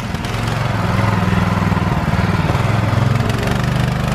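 A 212cc engine on a motorized scooter runs steadily and loudly up close, its low droning hum holding continuous through the whole stretch.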